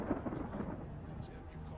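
Rain pours steadily outside a building with low rumbling thunder beneath it, faint and distant, a continuous wash of noise with no talk.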